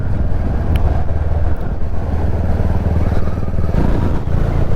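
A new Royal Enfield Classic 350 motorcycle being ridden, its engine giving a steady, dense thump with heavy wind rush over the microphone, loud and continuous throughout.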